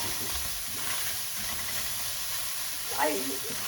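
Onions cooking in a pan without oil for kohlrabi poha, giving a steady soft hiss and faint sizzle, close up, with a brief louder stir near the end.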